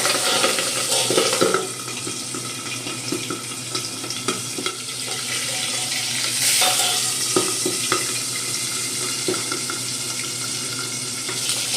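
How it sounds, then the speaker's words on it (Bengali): Pabda fish frying in mustard oil in a wok, a constant close sizzle with a louder burst near the start and scattered spatters and utensil scrapes throughout. "এবার মাছগুলো আমি ভেজে নেব।"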